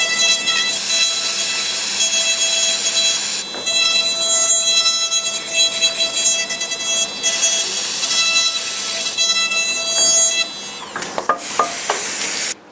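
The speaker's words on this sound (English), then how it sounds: "it is actually easier to use the normal drill for implant" A dental implant drill whirs at high pitch while working on a model with an air spray clearing debris, a steady close whine that dips briefly and ends in a few sharp clicks.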